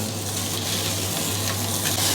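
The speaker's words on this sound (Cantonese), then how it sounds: "底面煎下佢啊，底面煎下它，咁啊煎30秒左右啦" Slices of luncheon meat pan-frying in a hot pan: a loud, close, continuous sizzle with fine crackling spatter and a steady low hum underneath, unbroken for the full two seconds with no talking.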